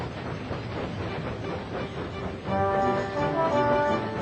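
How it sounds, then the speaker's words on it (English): Steam engine Edward puffing along the track across the countryside, steady rhythmic chuffing and rail clatter with a whistle-like tone joining in, moderately loud, no voices. "Edward puffed across the countryside."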